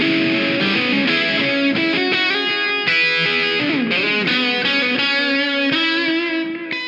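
A Reverend Jetstream electric guitar through a fully saturated Karen distortion pedal, with reverb and delay, rings out in loud, sustained chords and lead notes, switching between bridge and neck pickups, for about seven seconds with no talking.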